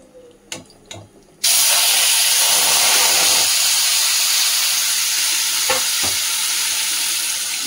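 Mango pieces drop into a hot wok with five-spice seeds and a dried chili, bursting into a loud, sustained hiss and sizzle after a few utensil clinks, with occasional stirring scrapes and no talking.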